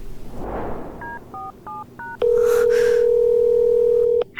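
A telephone call is placed: a rapid series of short keypad dialing beeps, then one long, steady, loud tone on the line, ending in a brief click.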